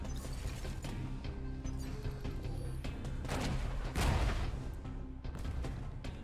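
Mini rockets launching in the sci-fi shooter Mothergunship, a quiet rattling mechanical clatter over a low game hum, with a heavier burst of blasts swelling in the middle.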